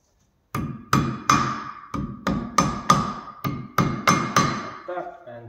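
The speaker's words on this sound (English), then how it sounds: "And give it a little tap with the hammer." A hammer taps a brake tab on a classic air-cooled VW Beetle during an Empi disc brake conversion, about ten sharp metallic strikes in a steady rhythm, each ringing briefly, close and clear.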